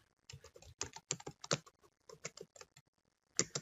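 Keys on a computer keyboard are typed in quick, irregular bursts of crisp, close clicks with short pauses between runs, ending in a final sharp keystroke.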